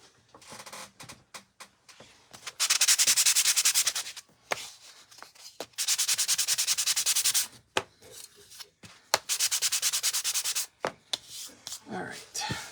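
Sandpaper rubs a painted wooden watermelon door hanger in several sustained, scratchy bursts of back-and-forth strokes, broken by pauses filled with light taps and handling noises, close up.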